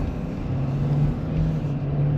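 A 2026 Ford F-250 Lariat Tremor diesel pickup accelerates past an 18-wheeler, its engine a steady, low droning hum with a faint tonal whine, heard from inside the cab at a constant loud level.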